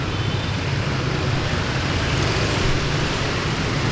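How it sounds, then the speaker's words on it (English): Dense street traffic in District Phu Nhuan, Vietnam, a constant loud roar of engines and tyres without pauses or voices. "You don't hear any of this noise in the traffic from the room either."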